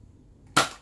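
A toy Nerf blaster fires once with a sharp, loud pop-and-snap after a quiet stretch; the report rings briefly and fades within a fraction of a second.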